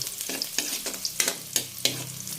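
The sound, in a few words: chicken frying in pan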